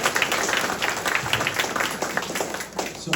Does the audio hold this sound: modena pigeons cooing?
no